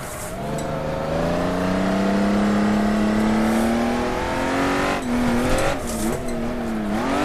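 Honda NSX engine on a kart circuit, loud and close, holding a steady rising drone before a quick downshift blips the revs, with tire noise underneath.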